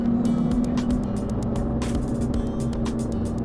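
Steady rumble of a vehicle on the winding mountain road to Alishan, Taiwan, with passing car noise and a sustained engine hum throughout, no voices.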